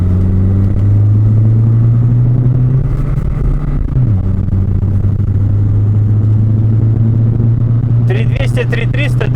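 An Audi A6 C4 Quattro with a big turbo pulls hard, its engine droning loud and steady from inside the cabin, dipping briefly around a shift before climbing again, with someone talking over it.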